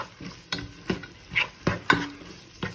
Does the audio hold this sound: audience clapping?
no